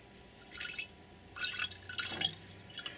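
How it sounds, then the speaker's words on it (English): Liquid is poured out of a container to separate it, splashing and dripping in uneven bursts, close and moderately loud, with no talk. "Well, just keep pouring it out."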